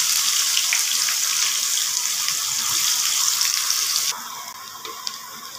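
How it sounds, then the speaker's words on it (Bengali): Chopped onions fry in hot oil with a loud, steady, close-up sizzle like rushing water, dropping noticeably quieter for the last second and a half, with no voices. "পেঁয়াজগুলো আমার মোটামুটিভাবে ভাজা হয়ে এসেছে"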